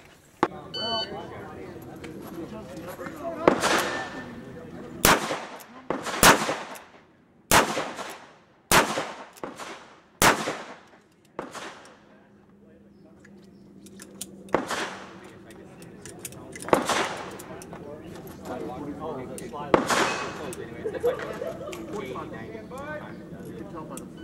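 A Single Action Army clone revolver in .45 Long Colt fires in cowboy-style shooting at a USPSA-type fun match: about ten sharp, loud shots at uneven intervals of roughly a second, with people talking between and after the shots.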